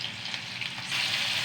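Garlic and vegetables frying in hot oil in a pan for moussaka, a steady close sizzle that swells louder and brighter toward the end, with no voices.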